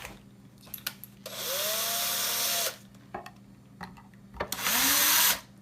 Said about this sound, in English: Just pre-drilling a small little hole through that really tough outer exterior